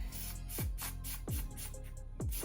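Four short bursts of hair spray on a curly wig hiss in quick succession, each followed by a falling rumble, close to the microphone.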